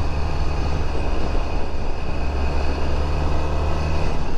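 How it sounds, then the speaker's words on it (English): A Suzuki Burgman 650 scooter crosses a railroad crossing, giving a loud, continuous low rumble with steady road and wind noise and no break in the sound. "There's a railroad here, I know, might be bumpy."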